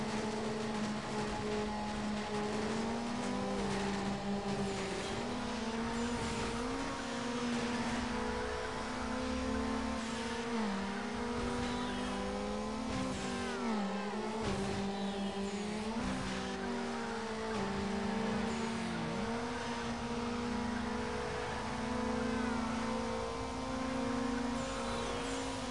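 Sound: car racing in Need for Speed Underground video game

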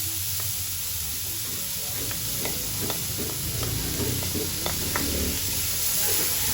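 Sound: onions sizzling and being stirred in a pan

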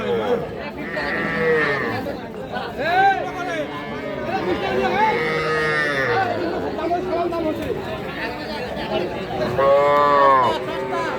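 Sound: cattle and calves lowing at livestock market

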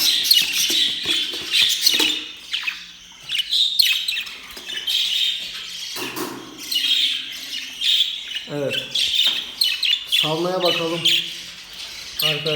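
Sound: budgerigar chicks chirping

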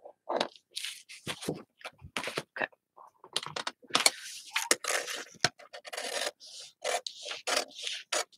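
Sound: paper being cut

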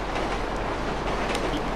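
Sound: train in GTA V Online video game

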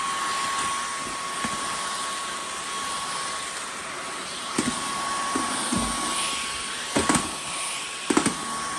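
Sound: Dyson V15 Detect cordless vacuum cleaner running

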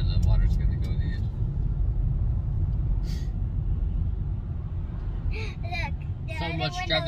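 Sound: traffic passing by outside car

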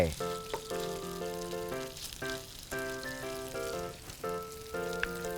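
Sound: ham sizzling as it fries in butter

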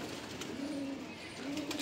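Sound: Madrasi pigeons cooing

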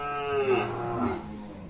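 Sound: Sahiwal breed bull mooing

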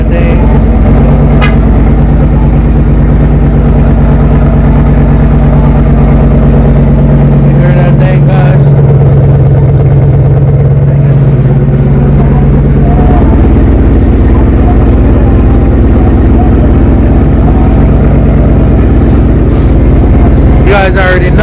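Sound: Jeep engine starting and idling

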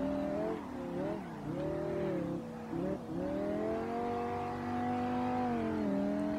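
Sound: BMW M5 E60 car engine in a racing video game

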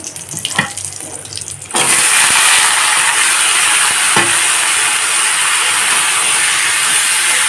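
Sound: vegetables added to hot pan with fried bori

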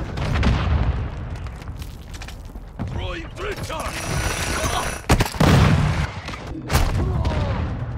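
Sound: shotgun gunfire in Call of Duty Modern Warfare II video game

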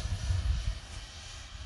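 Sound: Freewing Me-262 twin 70mm EDF RC jet flying

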